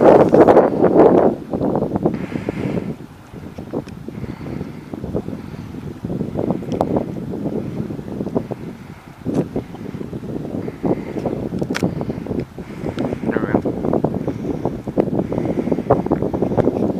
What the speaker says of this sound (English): Damn wind, slow down.